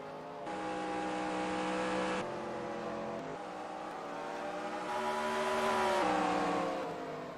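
Race cars roar away together at the green flag of a short track race at North Wilkesboro, a loud sustained engine howl that rises and shifts in pitch as they accelerate, with no talk over it.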